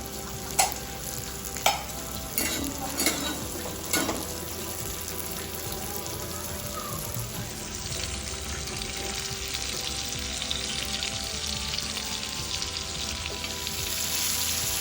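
Prawns frying in oil in a pan, a steady broadband sizzle running throughout, with a few sharp clicks and scrapes of a utensil early on; no one speaks.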